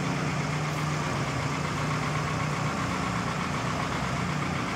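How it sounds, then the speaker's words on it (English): A fire department ladder truck's engine idles during a nighttime parade of lights, a steady low diesel rumble that holds constant and fairly close, with no voices over it. "This is ladder truck 307."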